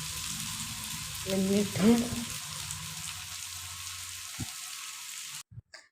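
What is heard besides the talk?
onion and crushed ginger sautéing in pan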